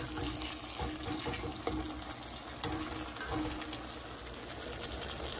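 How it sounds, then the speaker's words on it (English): Salt mackerel frying in a pan in a home kitchen, a steady wet crackle and sizzle running throughout at moderate loudness, with occasional sharper pops and utensil clicks standing out over the continuous hiss. "I'm gonna fry up my salt mackerel."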